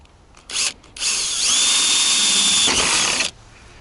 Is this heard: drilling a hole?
yes